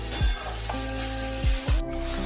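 Scraped tomato and spices sautéing over a medium flame for chickpea chana masala. A loud, steady sizzle is broken by several sharp scraping strokes of a spoon against the pan, with no voices.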